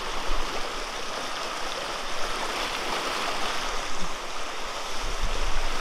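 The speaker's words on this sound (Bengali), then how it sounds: "এই ঝিরিগুলো থেকেই কিন্তু এই অঞ্চলের মানুষেরা, পাহাড়ি মানুষেরা পানি সংগ্রহ করে" A small mountain stream in the Bandarban hills flows steadily, its even rushing and babbling water close by and unbroken, with no voices.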